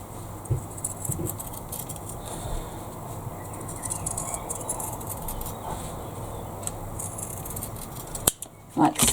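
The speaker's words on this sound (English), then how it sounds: "I'm going to use my scissors at this point to cut through all the layers." Sewing scissors snip through several layers of fabric close up, making a series of soft, crisp cuts with quiet rustling between them.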